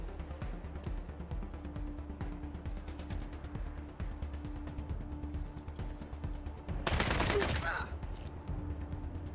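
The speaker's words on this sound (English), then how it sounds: "Go ahead and get the shots in with the SMG right there." SMG fire in the video game Wasteland 3: rapid bursts of small-arms shots crackle over a busy low background, with a louder dense volley near the end.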